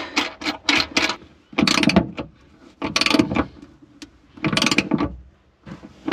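A nut and flat and lock washers are tightened onto a boat's bow cleat, heard as bursts of close, loud ratcheting clicks separated by short pauses.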